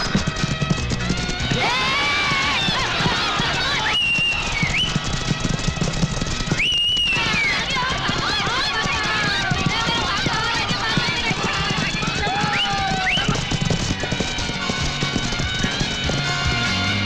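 Racehorses galloping in a jackpot race, a steady loud drumming of hooves that runs throughout, with voices shouting and talking over the pounding and a couple of brief high tones cutting through.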